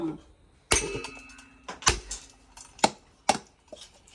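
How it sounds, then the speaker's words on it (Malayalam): A coconut is cracked open: several sharp, hard knocks ring out at irregular intervals, each a sudden crack with a brief resonant tail, followed by quieter taps and rustling. "ചമ്മന്തി പൊടിക്കുള്ള നാളികേരം ഉടക്കിയാണ്"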